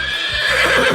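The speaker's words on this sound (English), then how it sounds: "Horse. This is a horse." A horse neighs in a short, loud, close whinny, heard alone over faint background music.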